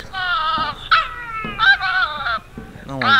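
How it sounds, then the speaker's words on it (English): A dog barking, played back during a video game session: several short, yelping barks in quick succession, fairly close and clear, with a brief whimpering quality and no talk over them. "You're playing a dog barking."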